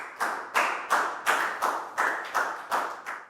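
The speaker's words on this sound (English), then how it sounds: "Big round of applause for Pak Bung," Students in a Year 4 maths class clap in unison, about eight sharp, evenly spaced claps in a steady rhythm, each ringing briefly in the room.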